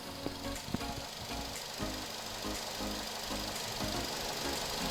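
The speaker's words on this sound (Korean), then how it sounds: "엔진룸을 한번 들려드릴게요" A 13-year-old Renault Samsung SM5 New Impression SE engine idles with a low, even hum and faint mechanical ticking, quiet and steady throughout.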